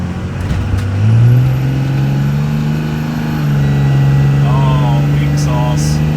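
A Cummins 24-valve diesel in a truck revs up close and loud, its deep drone rising, holding and climbing again, with brief squeaky sounds and some background noise over the engine.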